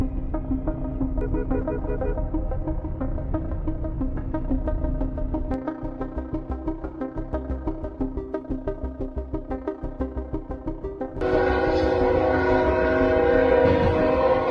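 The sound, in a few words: train approaching a stalled car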